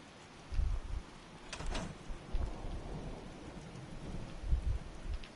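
Steady rain in the video game Fallout 4 hisses continuously, with soft low thumps and rumbles rising and falling throughout, alone without any talk.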